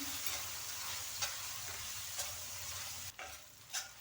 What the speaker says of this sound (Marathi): टोमॅटोही आपल्याला एक ते दोन मिनटं भाजायचे आहे